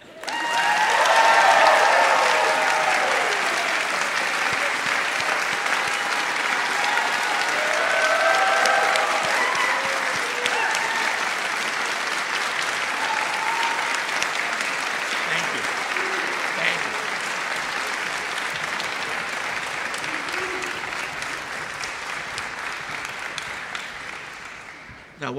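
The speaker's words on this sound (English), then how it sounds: "Now you may clap." Sustained audience applause at a choir concert, a dense wash of clapping that swells early and holds steady for over twenty seconds before fading, with faint voices mixed in.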